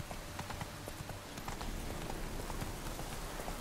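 Hooves of Roach, a horse in The Witcher 3: Wild Hunt, clip-clop in a steady rhythmic gait, close and clear, with no talk over them.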